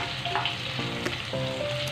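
Prawns fry in hot oil in a pan, a close, steady crackling sizzle with a few brief pops and faint scraping over its short length.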